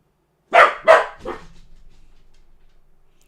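A dog gives three quick close barks, the last softer, followed by a fading tail of quiet room sound.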